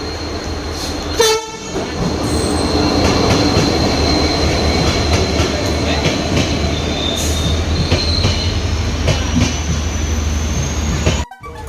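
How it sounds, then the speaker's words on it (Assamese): A Vistadom train rolls into a platform loudly and continuously, wheels rumbling and squealing with a high metallic screech, a brief horn-like tone near the start, cut off abruptly at the end. "এতিয়া আমাৰ ট্ৰেইন আহি পালে"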